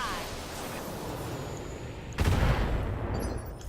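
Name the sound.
mech weapons firing in the video game BattleTech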